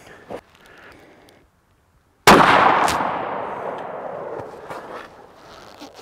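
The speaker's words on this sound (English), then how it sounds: "I'm gonna shoot this one freehand." A single loud rifle shot fired freehand into dirt in extreme freezing temperatures, a sharp close crack with a long decaying outdoor echo after a brief quiet.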